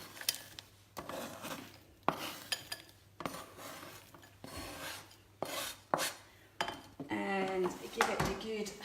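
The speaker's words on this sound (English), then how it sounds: "So I'm just gonna pop all that into there." Chopped pecans, walnuts, Brazil nuts and ground almonds are tipped into a bowl with a series of close clattering scrapes and rattles. A voice speaks now and then between the sounds.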